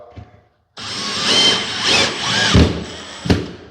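Power drill driving countersunk screws as a fixing during a quick repair job: one sustained, loud, close whir lasting about three seconds after a short silence, ending with a sharp final burst.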